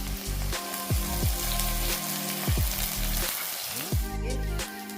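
Curry leaves sizzle and crackle in hot oil for a mackerel curry, a loud, steady frying hiss punctuated by sharp pops and spits, close up with no talking.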